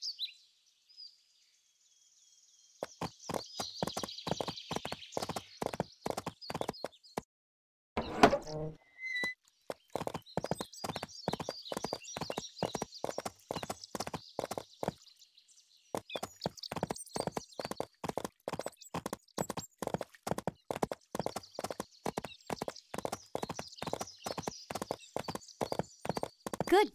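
Steady, rhythmic video game horse hoofbeats clip-clop at a walking pace for most of the clip, with brief pauses, a short snort or neigh, and faint birdsong behind.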